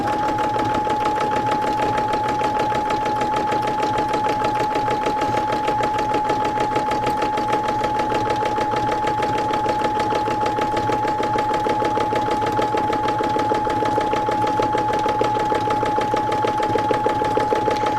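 A sewing machine stitching free motion embroidery runs in a fast, even mechanical patter with a steady motor whine, continuous and close for the whole stretch, with no voices.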